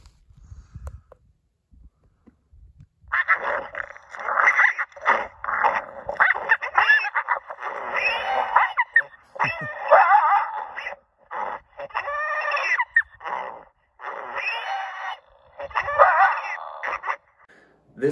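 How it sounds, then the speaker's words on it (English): An ICOtec Sabre electronic predator call plays its coyote versus piglet sound, loud frantic squealing and yelping cries in bursts that begin after a few quiet seconds and continue for about fifteen seconds. "Coyote versus piglet."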